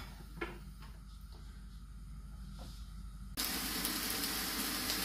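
Rabbit meat, including liver, heart, kidney and backstrap, frying with onions in a pan: a soft sizzle with faint clicks at first, then a sudden jump to a loud, hissing sizzle as the meat goes in.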